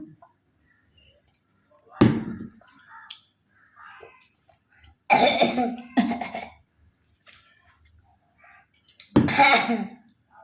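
A few sharp coughs burst out in separate clusters against a mostly quiet background, close by.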